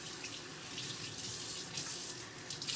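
Vegetables rinsed under a running kitchen tap while preparing soup, a steady close hiss of flowing water spattering into the sink with no pauses.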